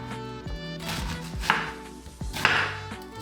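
A knife slicing through cabbage on a board, a series of crisp crunching cuts in an uneven rhythm, close and clear with no talking.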